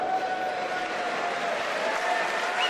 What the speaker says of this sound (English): a big round of applause from the Short Call crowd for that